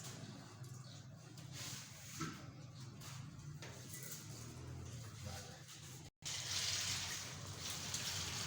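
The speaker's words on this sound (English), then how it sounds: "So after planting, you'll fill a little bit of water into the pot" Water pours into a natural clay flower pot after planting, a faint, quiet gushing trickle that runs for several seconds with a brief break near the end.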